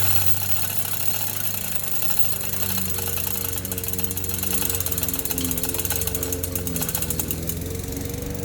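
Chain hoist lifting the engine out of a Simplicity Sunstar 20 lawn tractor gives a rapid, steady metallic ratcheting clatter, close and loud throughout over a low mechanical hum, with no talking.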